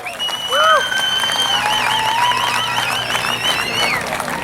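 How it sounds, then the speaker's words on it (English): An audience at a local Idol singing competition applauds the contestants, steady clapping and crowd noise beneath loud warbling electronic tones that sweep and wobble through most of the stretch. "let's give all of our Idol contestants a big round of applause"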